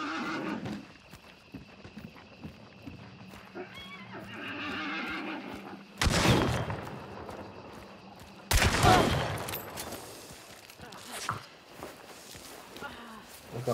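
Two heavy shotgun blasts ring out close by in the online shooter Hunt: Showdown, a few seconds apart, over a steady bed of game ambience with horse whinnies and footsteps.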